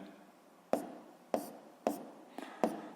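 A pen writes an answer on paper in a physics homework check. Five short, sharp scratching taps come at a steady rhythm, close and quiet, with no talking.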